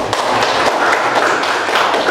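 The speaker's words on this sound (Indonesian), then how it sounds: "Tepuk tangan dulu." A classroom of students claps together in a dense, steady burst of applause that fills the room, loud and close throughout.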